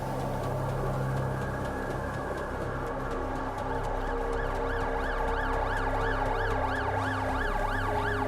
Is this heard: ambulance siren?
yes